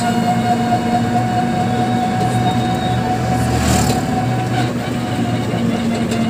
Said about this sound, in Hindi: ये है रेलवे स्टेशन, देखिए दोस्तों, ये हमारा रेलवे स्टेशन है सोनपुर का।